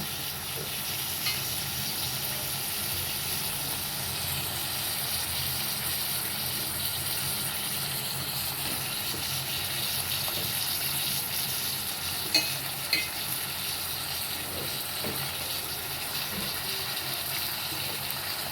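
Chicken pieces added to a roasted-coconut masala and frying in a pan, a continuous steady sizzle and hiss with a few faint clinks from stirring.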